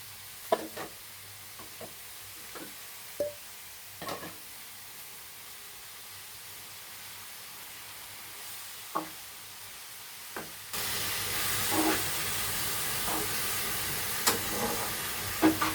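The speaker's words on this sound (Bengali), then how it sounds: "পেঁয়াজটা বাদামি কালার হয়ে আসছে, হালকা বাদামি কালার হয়ে আসছে। এখন আমি পালং শাক দিয়ে দিই।" Spinach sizzles in a pan with lightly browned onions for a traditional Bikrampur-style dish: a soft, continuous frying hiss with scattered clicks of stirring, and the sizzle grows louder and brighter partway through.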